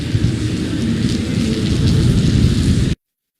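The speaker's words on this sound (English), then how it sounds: "this wind-driven rain has been fairly consistent" Steady, heavy wind-driven rain from Tropical Storm Ida roars and hisses without a break, a dense broadband wash of downpour and gusts, loud and close, with no voices, ending abruptly.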